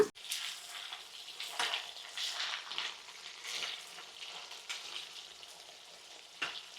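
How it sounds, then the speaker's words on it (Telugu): White brinjals fry in hot oil in a pan, a steady close hiss and crackle of sizzling with a few sharper pops and light turning sounds, heard alone without speech. "రెండు వైపులా తిప్పుకుంటూ వంకాయని ఇలా చక్కగా నూనెలో వేగనివ్వాలి ఒక 2 నిమిషాలు"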